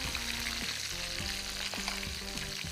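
Pre-cooked pieces of meat (boti) fry in a pan for chutney, giving a steady close sizzle under low tonal hum and a few soft stirring knocks, with no talking.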